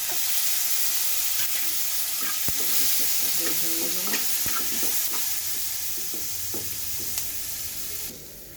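Mustard seeds frying in a pan of oil with crushed onion and garlic give a loud, continuous close-up sizzle, with scattered crackles and pops and a few scraping stirs throughout.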